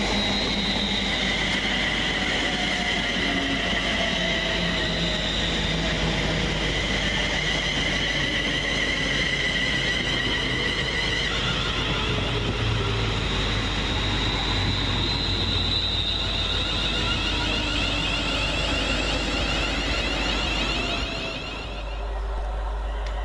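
Three Class 350 electric units forming a 12-car London Northwestern Railway service pass through Leighton Buzzard station, a loud steady rumble of wheels on rail with squealing and whining tones, sustained close by before easing at the end.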